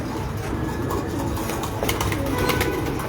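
Lal pari pigeons at a breeder's loft coo in a dense, continuous low rumble, loud and close, with no voices over it.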